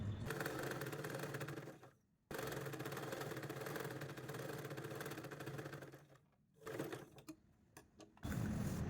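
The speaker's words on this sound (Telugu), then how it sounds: "ఇప్పుడు లైనింగ్ క్లాత్ స్టిచ్ వేసుకోవాలి" A sewing machine stitches lining cloth in steady whirring runs, close and fairly loud, stopping briefly twice between bursts of stitching.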